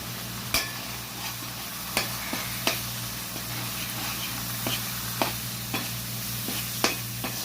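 Fish curry masala with curry chili powder being stirred and sautéed in a pan, a steady low sizzle broken by sharp scrapes of the spoon against the pan every second or so, close and alone.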